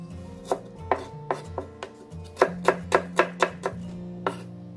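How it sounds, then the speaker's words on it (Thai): Knife slicing shallots into thin rounds on a cutting board for a Thai minced pork chilli dip, a run of crisp, close chopping taps, sparse at first then quicker and louder in a regular rhythm. "หอมแดงนะคะเราก็จะซอยเป็นแผ่นๆแบบนี้เลยค่ะ"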